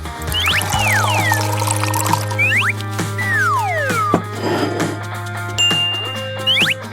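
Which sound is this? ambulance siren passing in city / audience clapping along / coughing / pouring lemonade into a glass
pouring lemonade into a glass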